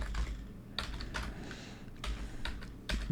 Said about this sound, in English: I'm going to type in pickleball